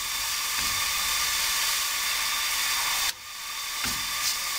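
An orange crêpe cooks in a hot pan with a steady, close sizzling hiss that holds level, then briefly drops away before building again.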